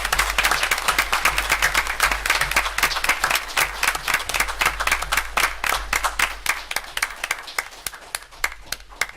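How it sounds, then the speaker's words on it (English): An audience at a city council meeting applauds in a steady, dense patter of many hands clapping, sustained for about nine seconds, moderately loud and easing slightly toward the end, with no talking over it. "let's give her a round of applause"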